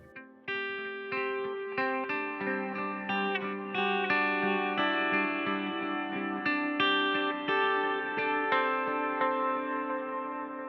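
An electric guitar played through a Line 6 Helix Bloom reverb set to a low decay and mix, with sustained chords and single notes ringing out in a soft, shimmering wash of echo behind the clear dry tone.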